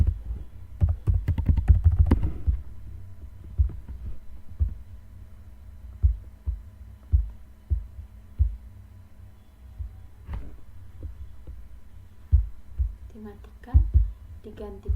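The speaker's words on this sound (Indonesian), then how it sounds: "Konekkan, lalu ketik password" A password is typed on a computer keyboard during a computer networking lesson, producing a scatter of close, light key clicks over a faint hum, with a quick flurry near the start.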